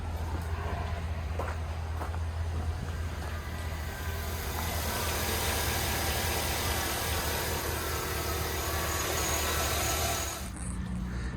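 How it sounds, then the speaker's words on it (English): Engine of a Chevrolet 1500HD truck running steadily nearby, a loud continuous droning rumble with a broad hiss that swells slightly midway and then drops off near the end. "The motor sounds quieter."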